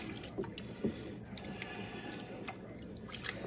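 Black cohosh roots tipped into a container of water for washing, giving faint splashes and drips with small liquid plops, quiet and close, with no talk.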